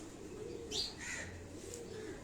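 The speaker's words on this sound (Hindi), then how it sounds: "यहाँ उनके उड़ने वाले कबूतर हैं" Pigeons kept in a rooftop loft in Karachi give a few soft coos and chirps over a steady low background hum, fairly faint and close by.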